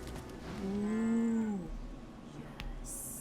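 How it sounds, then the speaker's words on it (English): A cow in the video game Divinity Original Sin 2 gives one clear, drawn-out moo that rises and falls, close and distinct over a quiet game background, followed by a brief high synthetic chime. "Thane, gonna need you to talk to the cow, mate."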